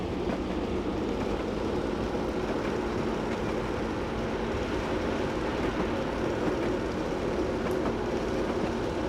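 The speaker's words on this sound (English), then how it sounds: "It's a nice train." A Class 111 diesel multiple unit rolls along Scottish western lines in a railway simulator, a steady loud engine drone with rhythmic rail clatter running throughout, no voices.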